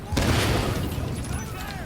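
A turret blows up in the shooter game The Division, a dense burst of explosive blast and crackling gunfire that starts abruptly and rumbles on loudly throughout, with shouted voices in the mix.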